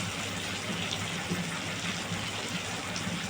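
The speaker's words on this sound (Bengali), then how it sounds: "এর জন্য আমি জল দিয়ে দিলাম" Water poured into a pan to make gravy for a chicken fry, chicken 65 dish, a soft steady gushing pour with faint background hiss, continuous and fairly quiet.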